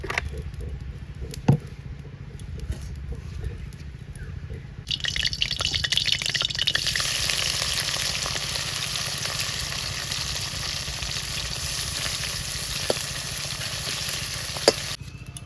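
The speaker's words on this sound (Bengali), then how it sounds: "এবার আমি সর্ষের তেল দিয়ে মাছগুলো ভেজে নিচ্ছি" Fish frying in mustard oil in a hot wok: after a quieter opening with a few clicks, a loud, dense sizzle starts and crackles steadily up close until the end.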